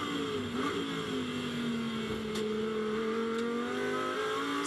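A GT2 race car at the Misano circuit roars past the pits with a steady, high engine note that holds and shifts slightly in pitch, heard from a moderate distance without any voices.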